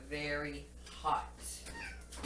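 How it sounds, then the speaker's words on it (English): A cat meows a few times in the background while a person speaks over it, the meows fairly faint and mixed with the talking. "my cat's meowing."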